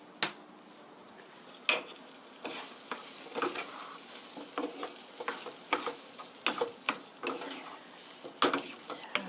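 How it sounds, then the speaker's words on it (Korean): Fusilli in tomato sauce simmering in a pan while being stirred, with a soft steady sizzle and bubbling under repeated scraping and clinking of a utensil against the pan, close and moderately quiet, with no talking. "소스가 면 속으로 쏙쏙 들어가게 1미닛 1분 정도만 이렇게 끓여주세요."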